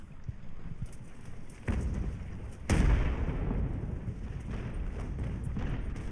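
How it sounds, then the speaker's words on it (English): Naval cannon fire in Ultimate Admiral: Age of Sail, with two booming shots a second apart sounding over a steady rushing bed of sea and wind, moderately loud with no voices. "we can actually get some proper cannon fire on them"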